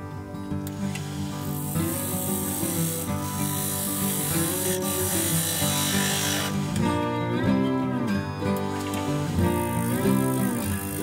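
A wood lathe spins an oak blank while a gouge cuts a tenon, giving a steady hum under a scraping, hissing cut whose pitch wavers as the tool moves, close and continuous.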